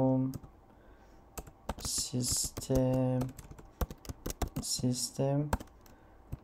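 A command is typed on a computer keyboard at a Linux Ubuntu terminal, with quick clusters of close, crisp key clicks mixed in with someone talking.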